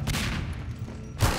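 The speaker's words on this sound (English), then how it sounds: "Explosions!" Explosions and gunfire from the video game Half-Life 2: Episode 1 make a dense, loud burst of shots and booms, easing briefly before another heavy blast at the end.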